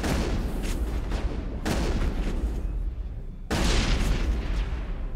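Shotgun blasts in the video game Mass Effect, with three loud booming shots spaced a couple of seconds apart over continuous rumbling combat noise.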